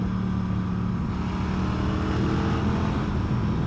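A Norton Commando 961 motorcycle engine and exhaust give a steady, close, throaty rumble with a deep, even drone that holds throughout without pause.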